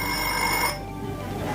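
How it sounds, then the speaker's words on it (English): A Promethean interactive panel timer plays an electronic alarm-style celebration ring, a bright rapid tonal ringing that sounds for under a second and then cuts off, leaving a faint background hum. "Do you want some sort of sounds, alarms?"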